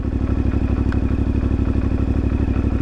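Ibex 450 motorcycle engine idling and pulling slightly uphill after an ECU upgrade, a steady close, loud chugging with rhythmic mechanical clatter and no voices.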